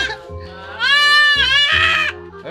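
Goats bleating loudly on a truck, several long wavering cries in close succession over a steady low engine rumble.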